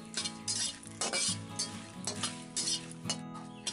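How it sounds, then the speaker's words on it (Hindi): Green chillies being dry-roasted and stirred in a pan for a spiced pangas fish masala, giving a steady sizzle broken by repeated scrapes and clinks of a metal spatula, close and fairly loud, with no talking. "सबसे पहले मिर्ची को हम भूंज लेंगे।"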